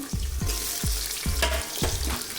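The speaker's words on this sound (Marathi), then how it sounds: "टॅमॅटो चांगलं भाजून घ्यायचं आहे आपल्याला" Tomatoes fry in a pan with onion, chili and spices for Maharashtrian-style rice, a loud, close sizzle broken by a regular series of scraping stirs.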